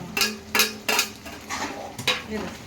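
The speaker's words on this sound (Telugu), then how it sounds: "ఇప్పుడు దొండకాయలు వేసేద్దాం" Ivy gourds added to a cooking pan for a curry, several close, loud clanks of a spoon against the pan with scraping stirs in between, no talk.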